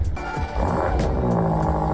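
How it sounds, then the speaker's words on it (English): A 1000-horsepower BMW M4 engine cranks and catches, settling into a loud, rumbling idle with periodic sharp pops up close. "That startup sounds so nice"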